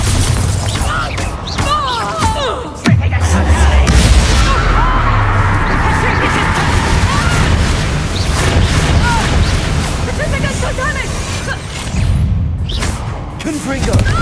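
Bombarda blasting spell going off in the Hogwarts Legacy video game, a loud booming explosion with crashing debris and sustained rumbling chaos, mixed with other spell effects and combat noise.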